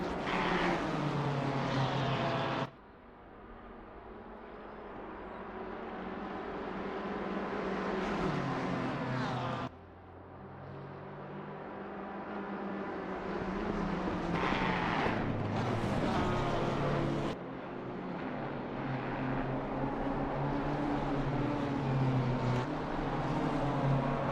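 Two BMW race cars dueling at Spa in a racing video game, engines droning and rising in pitch as they accelerate, with abrupt drops at gear changes, continuous and fairly loud.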